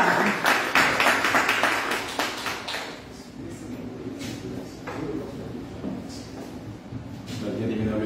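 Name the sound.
congregation applauding in church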